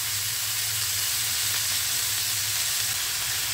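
Broccoli and garlic fry steadily on a hot tawa, seasoned with salt and a pinch of turmeric, giving a continuous even sizzle with a low hum underneath and no voices.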